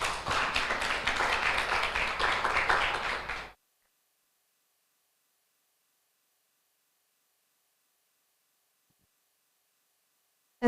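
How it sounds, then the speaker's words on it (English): Brief applause at an agricultural faculty international seminar during a certificate presentation, faint clapping for a few seconds that stops abruptly into silence. "Give a big applause."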